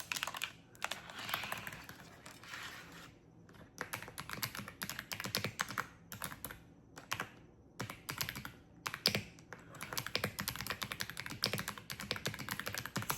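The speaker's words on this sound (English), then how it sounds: "are you liking this keyboard sound" Typing on a computer keyboard, close and crisp, with bursts of rapid keystrokes broken by short pauses and no voices.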